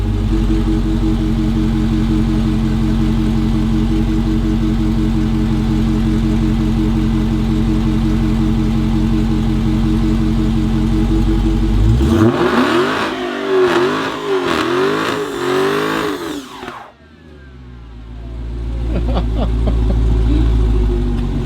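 A 2021 Dodge Charger Redeye Hellcat's supercharged engine holds a loud steady high rev during a line-lock burnout, then surges through several sharp revs before cutting off abruptly and returning as a quieter rumble.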